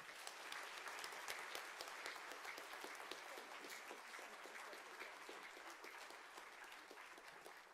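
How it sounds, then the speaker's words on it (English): A school Foundation Day audience at The Cathedral School gives a round of applause, a continuous and fairly quiet wash of many hands clapping, heard as if from a distance, sustained throughout. "may we please have another round of applause for Tessa Clarkson"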